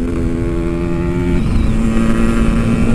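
Yamaha RX King motorcycle with a stock engine revving steadily and loudly up close, its two-stroke drone holding a constant pitch before stepping up slightly midway and staying high.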